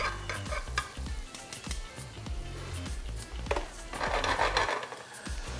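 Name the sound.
garlic frying in a pan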